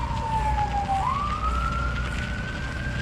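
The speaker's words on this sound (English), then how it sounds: "Sirens somewhere. I don't think it's a motorcade," A distant siren wails, its pitch dipping then rising and holding, over a low rumble of city traffic.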